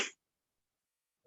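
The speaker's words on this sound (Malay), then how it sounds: "batuk puan kami kedengaran sebentar, minta maaf" A woman's cough during an online briefing on a bank's SME digitalisation grant: two short, sharp bursts, one at the start and one at the end, with silence between.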